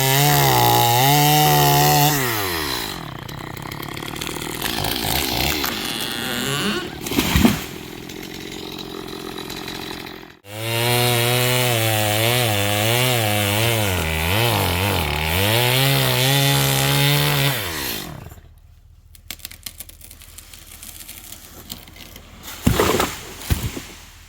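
A chainsaw with a dull chain roars close by while clearing forest land, revving up and down in long sustained bursts with brief pauses and a final stop, wood being cut.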